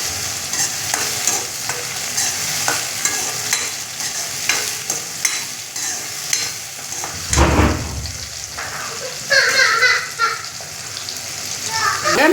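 Green chillies sautéing in a pan for a Tamil mushroom dish: a steady sizzle with repeated scraping stirs of a spoon, a heavier clatter midway, and a voice speaking briefly over the cooking.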